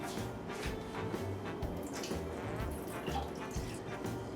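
Rice is swished around in a pot of water to wash out the starch, giving a continuous close sloshing and trickling with light splashes and no talking.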